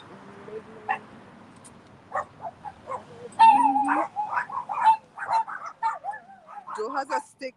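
Dogs yip, whimper and bark in short bursts that grow busier partway through, close by and fairly loud, mixed with a person's voice.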